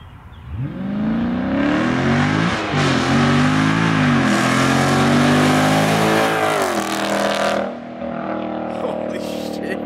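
A straight-piped Dodge Charger Scat Pack sweeps past in a loud flyby, its engine roaring with a rising, swelling note that peaks mid-pass and then drops off sharply as the car moves away.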